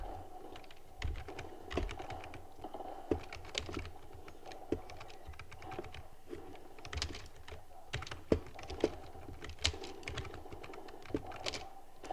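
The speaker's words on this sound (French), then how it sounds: "je joue littéralement clavier souris sur console" Keyboard and mouse played on a console during a Call of Duty match: close, quiet clicks and keystrokes in irregular bursts, with occasional sharper taps.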